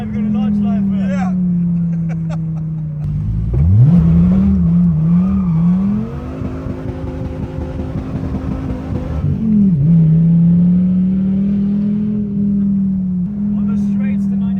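A Porsche 918 and a Dodge Viper race along a road, heard as a loud, steady engine drone that surges into a rising, warbling rev before settling back to an even cruise.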